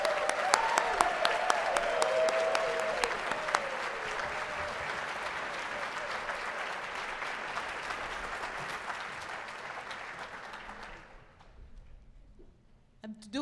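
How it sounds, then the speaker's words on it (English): Loud, sustained applause from a conference audience fills most of the clip, many hands clapping together before it thins out and fades near the end. "Let's give them a huge round of applause."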